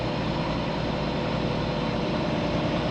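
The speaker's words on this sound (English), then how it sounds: "the truck keeps revving up as I'm pulling forward" A heavy truck engine rumbling at idle in bumper-to-bumper traffic on California 91 eastbound through Anaheim, a steady loud low drone close by with slight throttle swells, no voices.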